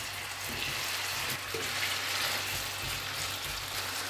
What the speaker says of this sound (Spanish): Ahora que el aceite está caliente, vamos a echar las patatas